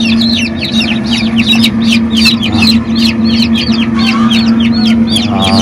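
Chicks and chickens at a poultry farm keep up loud, rapid, overlapping cheeping and clucking close by, over a steady low mechanical hum.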